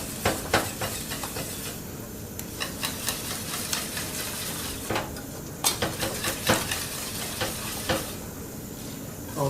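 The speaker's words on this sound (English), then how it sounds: "incorporate all that cheese in there. Mix that up just like that." A spoon stirs blended cheeses into macaroni and sauce in a pot, giving repeated soft clinks and scrapes against the metal over a faint hissing background, with no talking.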